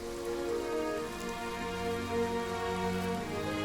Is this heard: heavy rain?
yes